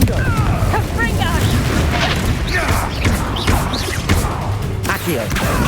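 Repeated Confringo fire-spell blasts boom and crash in Hogwarts Legacy combat, loud and dense, overlapping whooshes and impacts under shouted spell incantations.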